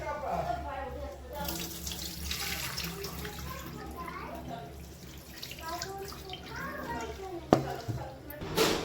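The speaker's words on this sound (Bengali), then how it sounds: "সব রকম ডাল নেওয়া হয়েছে ডালটা যত ভালো করে ধোয়া হবে তবে কিন্তু গন্ধটা কাটে" Lentils are washed under running tap water at a kitchen sink, a continuous splashing stream with some sharp clatter while someone talks over it and children are faintly heard.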